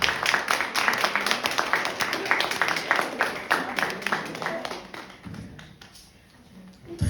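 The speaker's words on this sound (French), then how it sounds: "je vous invite à vous applaudir" An audience at a talk on mental health applauds itself, a dense burst of clapping fairly close that thins out toward the end.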